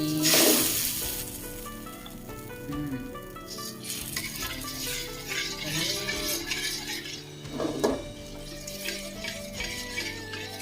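Coconut milk and ready-made curry paste sizzle in a pan for a Thai chicken and pea eggplant curry, with bursts of frying, stirring scrapes and clinks of a utensil against the pan, close and fairly steady.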